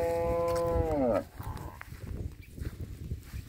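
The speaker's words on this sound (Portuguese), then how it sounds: "Ela berrando com o ciúme da bezerra." A dairy cow bellows a long, loud moo close by, jealous of her calf, then falls quiet as faint farmyard noise continues.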